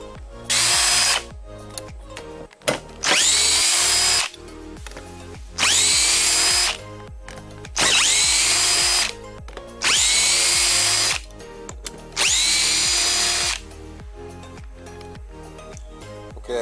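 A power drill on a Chevy Caprice with an LS swap runs in six loud whirring bursts with short pauses between, backing out valve cover bolts, accompanied by clicks and metallic clatter.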